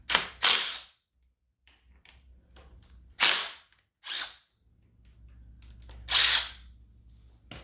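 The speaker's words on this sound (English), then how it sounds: "Take the brake bolts off." Brake bolts being removed from the KYB fork of a Yamaha YZ250 with a power tool, giving several short, loud bursts of impact-gun rattling with quiet pauses between them.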